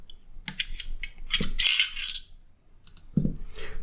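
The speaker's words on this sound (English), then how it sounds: "Let's take down the lever, the spring. Do the same thing with the Glock." A Glock 22 pistol is taken apart and its spring removed, giving a few faint, sharp metallic clicks and small rattling taps spread out over a quiet background.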